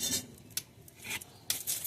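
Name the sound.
shaping fish tikki kebab mixture by hand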